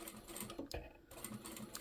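A domestic sewing machine back-stitches fabric with a quick, even mechanical rattle, close and fairly quiet, and a brief pause breaks the run near the middle.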